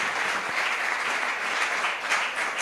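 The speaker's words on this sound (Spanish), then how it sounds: "Denle un aplauso al Señor." A church congregation at a Saturday workshop service applauds, a steady wash of many hands clapping at moderate, even loudness throughout, with no clear talk over it.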